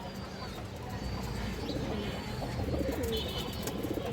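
A Giribaz sabji male pigeon coos softly and repeatedly, low murmuring calls over a steady background hum.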